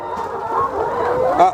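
Laying hens cluck steadily inside a chicken house holding hundreds of birds, a close, continuous chorus of overlapping clucks and murmurs with a louder squawk near the end.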